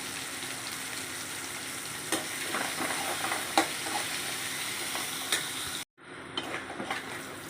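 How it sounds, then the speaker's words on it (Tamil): Shallots and curry leaves sizzle steadily in a hot pan, with occasional spoon scrapes and stirring clinks, close and continuous before a brief dropout and resumed sizzle. "கருவேப்பிலை, சின்ன வெங்காயத்தை போட்டு வணக்குவோம்."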